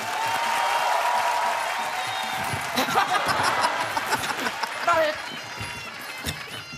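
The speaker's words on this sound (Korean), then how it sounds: "박수 박수" A comedy show audience bursts into applause mixed with chuckling and scattered laughter, steady and fairly loud throughout, with a voice briefly heard over the crowd.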